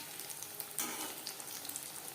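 Vegetable chops sizzle steadily in hot oil while the first side fries, a close, continuous crackle that swells briefly near the start before settling back to an even hiss.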